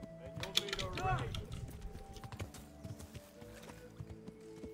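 Horse hooves clip-clopping at a charge in the medieval game Kingdom Come: Deliverance, a quiet busy patter under someone talking, with a brief whinny-like sound near the start.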